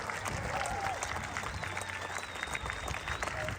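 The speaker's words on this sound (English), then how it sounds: "Give yourselves a big round of applause" A hospital event audience gives a round of applause, a dense patter of clapping at moderate level that runs the whole time, with some voices mixed in.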